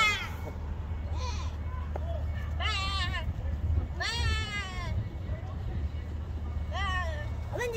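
Several loud bleats from milking goats and a small kid come in bursts, close by, with people chatting and a low hum of background noise throughout.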